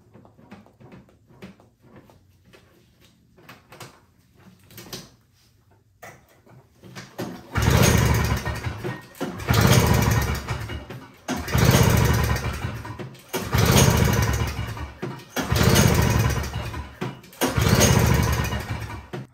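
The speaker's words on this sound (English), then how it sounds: "The snowblower still will not start" A Toro Snow Commander snowblower with Power Propel repeatedly fails to start, giving five or six loud pull-start cranking bursts that turn over without catching, after a quieter stretch of faint handling noises.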